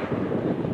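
Wind gusting over a microphone on the Chavdar bridge in central Sofia, a dense, low, rumbling buffet that fills the short moment without any voice.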